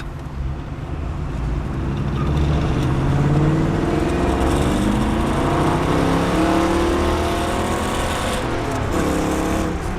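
A 1960 Corvette convertible engine accelerating hard on the road, a steady loud V8 roar climbing through the revs with gear changes, heard from inside the car.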